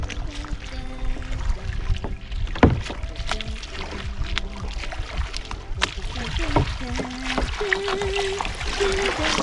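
Kayak paddling on water, with irregular splashes and drips of the paddle over steady wind and water noise, close by, and faint voices in the background.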